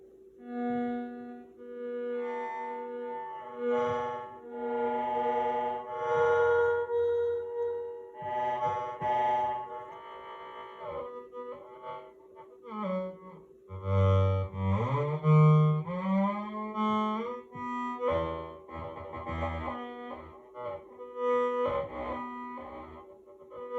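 Tetrazzi synthesizer playing a wavering melody whose loudness constantly swells and fades, with a rich buzzy tone and shifting pitches, heard alone.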